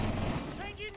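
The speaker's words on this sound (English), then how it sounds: "I killed the guy with the shotgun" A shotgun fires in a video game, one sharp, loud blast at the start that quickly gives way to a voice and rising electronic tones.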